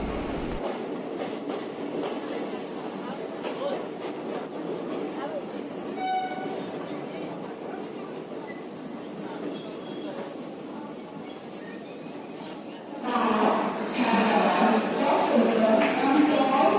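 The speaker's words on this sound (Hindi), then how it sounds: "लेट होने के कारण यहाँ सिर्फ 4 मिनट में ही हमारी ट्रेन यहाँ से" The Rajendranagar–Jaynagar Intercity Express, train 03226, pulls out of Darbhanga Junction with steady rolling rumble, clattering wheels, squeals and horn notes, growing louder near the end, with voices faintly in the background.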